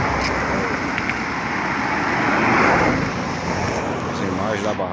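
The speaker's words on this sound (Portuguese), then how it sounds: "Os carros passam perto da gente." Cars crossing a bridge over the Quixeré dam in Ceará, a broad, continuous rushing roar of road traffic and wind, swelling slightly midway as vehicles pass nearby.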